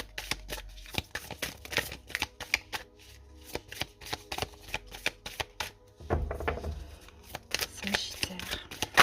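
Tarot cards are shuffled by hand in quick, repeated riffling bursts, a steady run of crisp flicks and slaps with a brief pause partway through, while a voice speaks softly at times.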